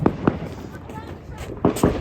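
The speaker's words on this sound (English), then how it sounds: "If you want to do fireworks, put away your phone." Fireworks go off in sharp bursts, two cracks close together at the start and two more near the end, loud and close, with voices and background noise between them.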